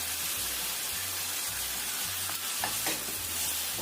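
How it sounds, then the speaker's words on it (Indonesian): A utensil scrapes and stirs through food sizzling steadily in a pan over medium heat, with a constant frying hiss and a few sharper scraping strokes. "Aduk sebentar."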